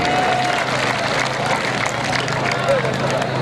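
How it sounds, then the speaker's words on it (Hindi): A crowd at an outdoor kabaddi match in Qaim Nagar, Punjab, applauds and cheers in a dense, continuous wash of clapping and babble, with a voice audible over the noise. "जोरदार ताली होनी चाहिए"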